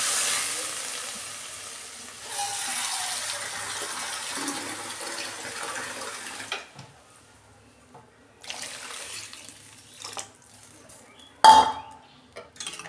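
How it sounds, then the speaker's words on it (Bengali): Water poured into a pot of fried vegetables for khichuri sets off a hissing sizzle that fades over several seconds, then quieter bubbling, a few pot clanks and a sharp metallic knock near the end. "আমি এই যে জল দিয়ে দিচ্ছি।"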